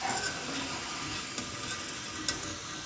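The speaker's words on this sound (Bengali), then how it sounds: "এবারে চুলার হিট মিডিয়াম টু লোতে থাকবে তাহলে আলুগুলা সুন্দরভাবে ক্রিস্পি হবে" Potato french fries frying in oil over medium-low heat, a steady faint sizzle and bubbling with a few small pops, no talking.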